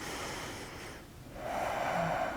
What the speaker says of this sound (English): And we're just breathing.